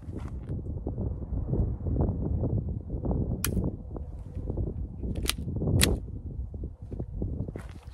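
Kel-Tec PMR-22 pistol fired at a target 50 yards away outdoors, a few sharp cracks spaced unevenly over a constant roar of wind buffeting the microphone.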